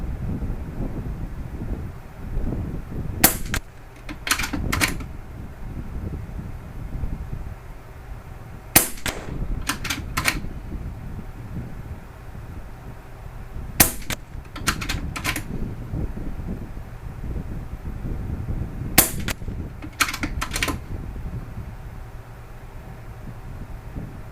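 A compact camo Umarex Gauntlet 30 air rifle fires at targets about 40 yards away outdoors, with sharp cracks in clustered pairs and triples every few seconds over steady wind noise.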